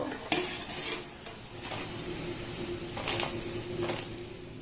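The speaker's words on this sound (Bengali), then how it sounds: "একইভাবে সমস্ত মিষ্টিগুলোকে আমি খুব সুন্দর করে ভেজে নেব" Flour-based gulab jamun sweets frying in hot oil: a continuous close sizzle with scraping stirs and bursts of brighter spatter recurring every second or so, no voices.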